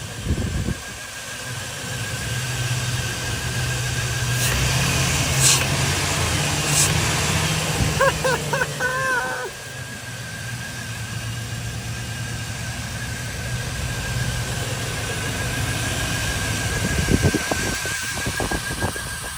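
An LS V8 engine idling in a single cab truck after repair, a steady low rumble held close throughout, with a brief clatter midway and scattered knocks near the end.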